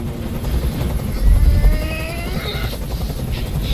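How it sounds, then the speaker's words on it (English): Helicopter rotor thudding steadily close by in the video game Detroit: Become Human, a dense low chopping drone with whining turbine tones above, swelling slightly midway. "Tell that helicopter to get out of here."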